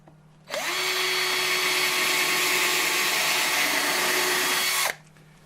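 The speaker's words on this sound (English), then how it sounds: "And I'm going to drill the next hole." A power drill bores a hole in scrap wood for a simple birdhouse, one continuous high whine of about four seconds that starts and stops abruptly, close and loud with no talk.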